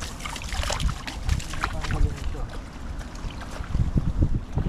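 Strong wind buffets the microphone over wide, choppy open water during tilapia fishing from a boat, a steady rushing roar with gusty low rumbles throughout; voices talk faintly beneath it.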